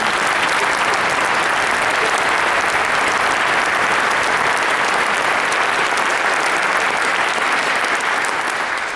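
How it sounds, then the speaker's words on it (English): A concert audience at an orchestra reunion applauds loudly and steadily, a dense, sustained wash of clapping that fills the hall without pause. "give them a round of applause"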